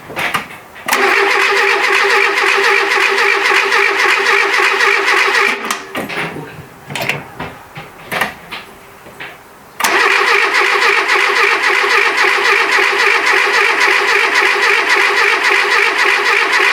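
A car engine, a Renault C1J swap, cranks and catches, then runs loud and steady at close range, briefly sputters and stalls around the middle before restarting and settling back into an even idle.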